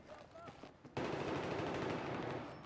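Dense rapid automatic gunfire from a multiplayer shooter match on the Metro map bursts in about a second in and keeps going loud and continuous, after a few quieter shots and faint talk at the start.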